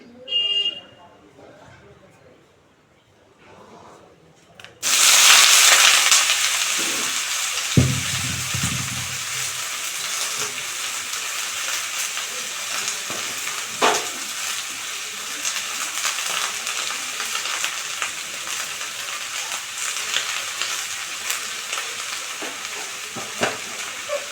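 Potatoes with green chillies frying in hot oil, a sudden loud sizzle that settles into a steady, bright crackle with occasional stirring clicks, after a quiet start.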